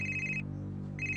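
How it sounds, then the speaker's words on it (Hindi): A mobile phone ringtone rings loud and close in a home, as a repeating electronic tone that sounds, pauses briefly and starts again. "तेरा फोन बजा"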